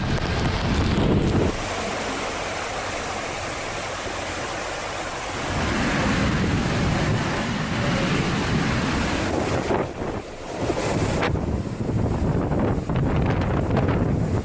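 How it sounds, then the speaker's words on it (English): Howling wind of Hurricane Harvey in Texas, 2017, with sustained winds over 130 miles per hour and stronger gusts, recorded by storm chasers: a loud, continuous broadband roar that surges and dips briefly, with no voices. "Storm chasers were now there, capturing audio of the howling wind and footage of buildings being shredded in the darkness."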